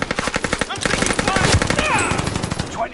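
Rapid automatic gunfire in Call of Duty on Rebirth Island, dense bursts of repeated shots crackling loudly throughout, with a voice talking over the fire.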